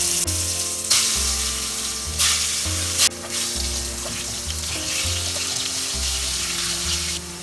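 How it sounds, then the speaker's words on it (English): Potatoes fry steadily in a pan of oil with a continuous sizzle, broken by a few brief louder clatters and splashes, and no one speaks. "Repeat the same process to fry the potato."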